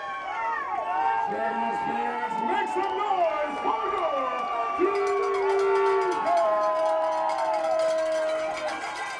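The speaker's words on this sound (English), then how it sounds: "Best home crowd in the East Coast Football League rises to their feet" A home crowd at an East Coast Football League game between the Shamrocks and Bandits rises and cheers, with loud sustained shouts and whoops rising and falling over a dense roar.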